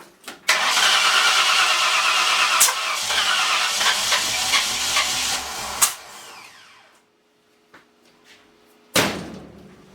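A car's freshly installed replacement engine cranks and fires into a loud rough run, then cuts out to near quiet before a second sharp start burst at the end.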